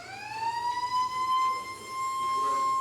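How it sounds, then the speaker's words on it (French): A wailing siren sounds to mark the start of an exam. It rises to a loud, sustained tone and holds nearly steady for several seconds with no voices. "la sirène retentit."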